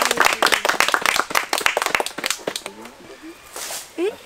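Dense clapping from a church congregation at a Mass near La Gran Piedra, Santiago de Cuba, loud at first and tapering off, with people talking over and after it.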